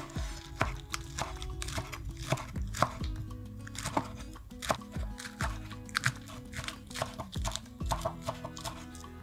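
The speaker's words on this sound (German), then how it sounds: "dann schneide ich in dünne Ringe" A knife cuts the green tops of spring onions into thin rings on a board, giving a fast, close run of crisp thuds and taps that continues steadily without pause.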